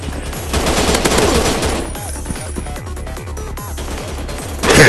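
Gunfire from a mobile military FPS game rings out as a long, steady string of evenly spaced loud shots, each with a short decaying tail, ending in a sudden louder blast.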